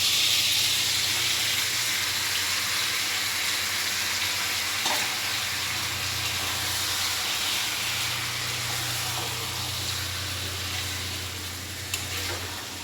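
Meat frying in a pan in a hot home kitchen, with a continuous, even sizzle and steamy hiss at moderate loudness under a low background hum, with no talk.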